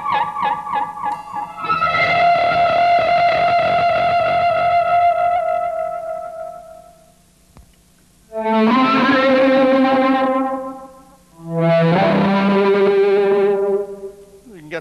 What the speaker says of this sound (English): Got the phase shifter on, the chorus is on. I'll turn, let's see, go to distortion sound and see, leave the echo where it was.